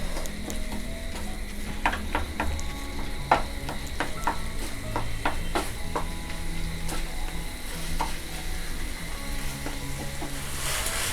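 Chicken keema sizzling in a pan as garam masala is mixed in, a steady frying hiss under sharp, irregular scrapes and clinks of a spoon against the pan.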